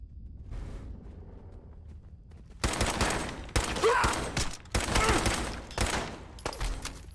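Bursts of pipe pistol gunfire in Fallout 4 come as sharp, loud cracks in quick clusters over several seconds, following a quieter stretch with faint talking.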